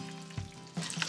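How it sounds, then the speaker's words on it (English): Chicken wings deep frying in oil in a cast iron pot give a steady close sizzle and bubbling, swelling louder with brief crackly bursts near the end, with no talking. "I've got it in a cast iron pot, which I love for deep frying because it holds the heat really nicely"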